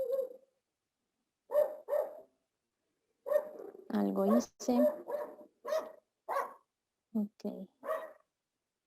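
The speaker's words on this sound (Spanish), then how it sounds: "Dejemos que abra en lo que el perro ladra para que no les tenga yo que gritar." A dog barks repeatedly during a Saturday law class, sharp barks in irregular bursts with short pauses between them, fairly close and loud, while a person speaks briefly in between.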